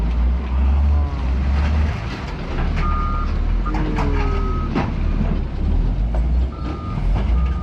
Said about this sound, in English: Oh, right into the crusher.